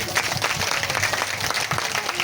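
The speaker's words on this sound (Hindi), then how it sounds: "आप लोग जरा जोर से ताली बजा करके बताइए ना" Audience clapping at a Shrimad Bhagwat Katha religious gathering: dense, sustained applause from a crowd, loud and even throughout the short stretch, with no talk over it.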